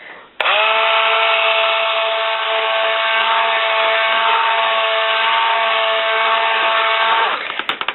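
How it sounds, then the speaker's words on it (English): A stick blender with a partly melted body whirs steadily through soap batter for about seven seconds. It starts abruptly, holds a loud, even motor whine, then cuts off with a few clattering bumps. "Do you like my stick blender?"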